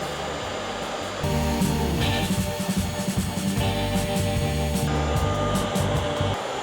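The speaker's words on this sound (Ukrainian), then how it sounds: "Поки Нік гріє деталі феном" A handheld cordless heat gun, a ProCraft PH 20, heating heat-shrink tubing blows with a steady whooshing roar that rises louder after a second and holds, fluctuating slightly, with no talking.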